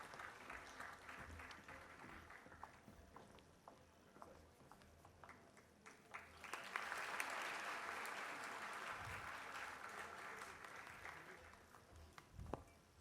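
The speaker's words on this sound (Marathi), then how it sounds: "ठाणेकरांकडून टाळ्या सुरूच राहिल्या तर चालतील, छान वाटतायत ऐकायला" An audience at a road safety awareness ceremony breaks into sustained applause, a dense patter of many hands swelling to a louder peak midway and then tapering, heard from a distance in a large hall.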